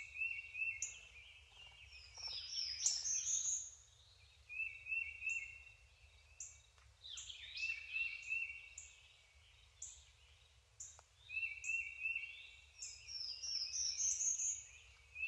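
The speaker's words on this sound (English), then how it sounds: "all it is just me hearing this bird call over and over again" A bird call in the video game Seeker repeats again and again: a high, warbling gobble-like cry comes in bursts every few seconds over a low steady hum, with no voices.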